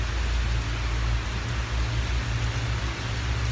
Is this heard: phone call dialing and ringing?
no